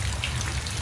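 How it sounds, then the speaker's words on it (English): Steady rain pours down in an old-time radio drama, a dense, continuous hiss of drops striking surfaces, heard alone and fairly loud for a brief moment. "It's rain."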